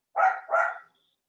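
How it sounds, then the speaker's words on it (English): Two quick barks from a pet dog at home, close and fairly loud, one right after the other, then silence. "Can you hear my dogs?"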